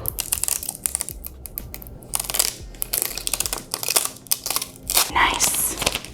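Transfer tape peeled off vinyl decals on a tumbler cup, a close, crinkly rasp broken into several tearing pulls, with brief low talk between them.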